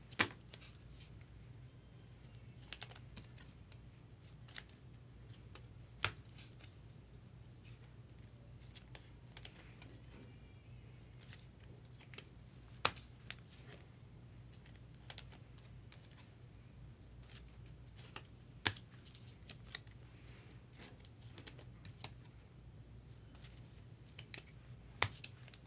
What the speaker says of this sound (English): I love the way these packs crumple up.